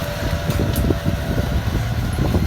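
A Kubota M108s tractor plowing a rice paddy gives off a steady low engine drone with a rumbling mechanical hum, heard continuously up close.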